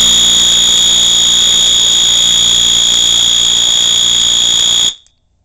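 A loud, piercing Wheelock fire alarm holds one continuous high tone for about five seconds, then cuts off abruptly into silence.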